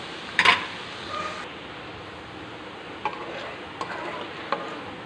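Garlic frying in oil for a tomato and red chili pickle makes a steady, soft sizzle, with a few sharp utensil clinks as it is stirred.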